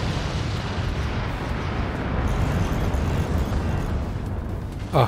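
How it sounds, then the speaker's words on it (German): Core explosions in the artillery strategy game Forts, heard as a sustained, heavy rumbling roar of blasts with a dense low end that stays loud throughout, ending in a brief thump. "Drei Core-Explosionen."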